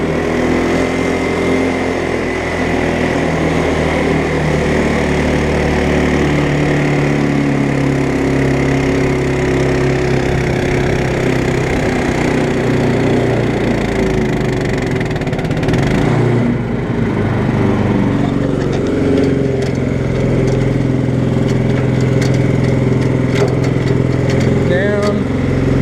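A 1959 Case 700 tractor fitted with an 11 hp Honda engine running in seventh gear, a steady loud engine drone with a continuous rumbling hum throughout, and a voice speaking over it.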